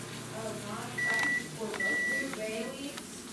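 A microwave oven hums steadily with a few high beeps in between, while a person talks nearby.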